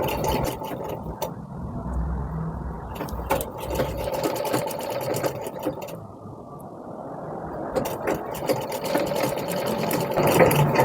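A sewing machine stitches a tuck strip for a blouse with a steady, close mechanical whir that dips briefly in the middle, accompanied by scattered small clicks.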